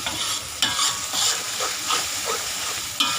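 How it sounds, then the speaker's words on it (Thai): Rice stir-fried in a pan over a charcoal stove hisses and sizzles steadily, with the spatula scraping and tossing in several distinct, close strokes and no one speaking. "ผัดข้าวก่อน"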